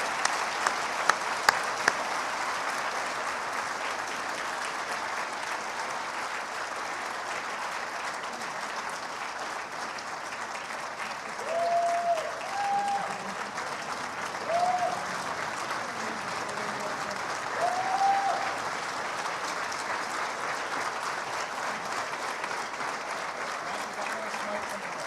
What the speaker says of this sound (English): Could we have a warm and loving round of applause?